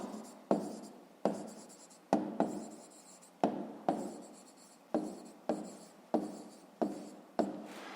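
Pen writing by hand on paper while working a fifth-grade maths exercise: a steady run of about a dozen sharp scratchy strokes, each starting with a tap and trailing off, close and clear with no talk over it.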